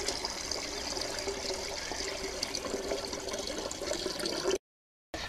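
Water splashes and pours steadily while paddy rice seeds are washed by hand, a close, continuous trickling and sloshing that runs for several seconds before briefly cutting out, with no voices over it.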